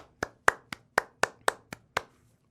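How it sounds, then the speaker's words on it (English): Primary school students in a classroom clap for themselves: eight sharp, evenly spaced claps in a steady rhythm, fairly close and clear, then silence. "Can you clap for yourselves?"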